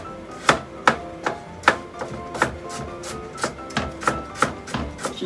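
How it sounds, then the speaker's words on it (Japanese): Knife chopping carrots on a cutting board for a smoothie, a dozen sharp, evenly spaced chops landing about twice a second, close and clear with no talking. "最近ね、僕ね、人参ばっかり切ってる気するんですよね"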